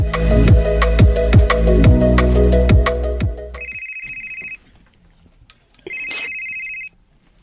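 Telephone ringing with an incoming call, first under loud rhythmic music, then alone as two clear electronic ring bursts separated by a short silence.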